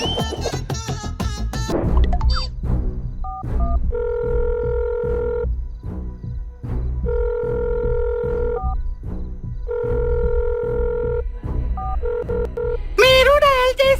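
A telephone number is dialed in a village comedy sketch, a sequence of several spaced keypad tone bursts in a steady rhythm, heard clearly with voices before and after.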